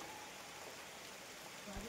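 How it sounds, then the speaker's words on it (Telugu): Heavy rain pours steadily over a coffee plantation, a constant, fairly quiet hiss with no breaks and a brief low thump near the end. "వర్షం అయితే ఫుల్గా పడుతుంది"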